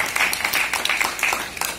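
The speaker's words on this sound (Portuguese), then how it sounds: "Mais uma salva de palmas oferecendo para a sua pessoa" An audience at a graduation ceremony for psychoanalysis and human rights defender classes breaks into lively applause. Many hands clap in dense, crisp bursts, moderately close and loud, with no clear speech over it.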